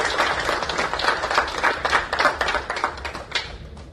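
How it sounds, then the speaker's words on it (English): A large audience at an MCL India event in a stadium gives a sustained round of applause, many hands clapping densely with bright crisp claps standing out, loud and continuous for several seconds. "So I'd like to have you guys give a round of applause for yourself and the team that made this possible."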